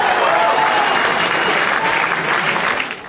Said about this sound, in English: You know how speakers will often give the audience time to applaud after saying something amazing?